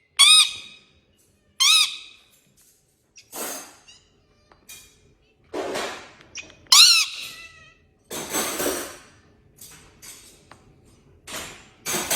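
A bird squawks repeatedly, loud and close, with harsh bursts separated by brief pauses, each call sharp and shrill, alone with no talk.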